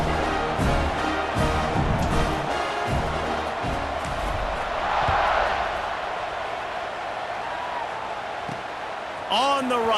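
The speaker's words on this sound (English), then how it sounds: "this crowd is feeling themselves after that last drive" A stadium crowd in the video game EA Sports College Football 26 roars steadily with cheering, swelling near the middle and holding under commentary, followed by a brief whistle-like tone at the very end.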